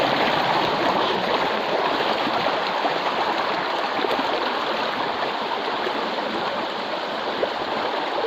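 Steady rushing and gurgling of a flowing creek, close and continuous throughout, with no clear footstep splashes standing out from the constant water noise.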